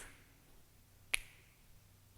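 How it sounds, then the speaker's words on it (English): Two crisp finger snaps, one near the middle and one at the end, pop out of a quiet room, close and distinct with no voices. "3 snaps."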